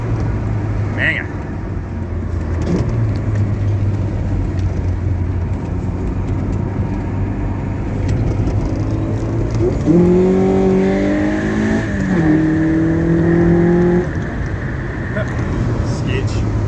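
A 1992 Honda Prelude SiR with a VTEC engine revs hard in first and second gear. The engine drones steadily, then climbs sharply in pitch through repeated loud revs close by.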